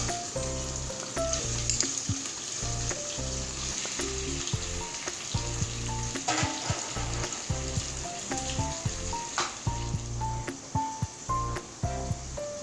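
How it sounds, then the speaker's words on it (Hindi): Chicken frying with garlic and ginger, sizzling steadily in a hot pan, with repeated scraping and stirring of a utensil throughout, close and continuous. "जो हमारी चिकन है ये भी हम लहसुन अदरक के साथ ही भूनेंगे।"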